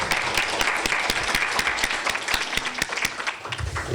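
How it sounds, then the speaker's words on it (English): An audience applauds after a film screening at a Pride in the Park community event, a dense, steady wash of many hands clapping close by that carries on for the full stretch with no talk over it. "Let's have another round of applause for that great film."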